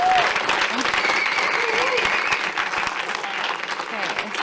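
An audience applauds steadily at a monthly board meeting, a dense, continuous wash of clapping at close range with a faint voice or tone running beneath it throughout.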